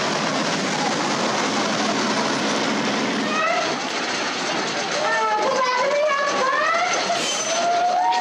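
Wooden roller coaster train running on its track at an amusement park, a loud continuous roar and rattle with high squeals rising over it, while people talk and children shout nearby.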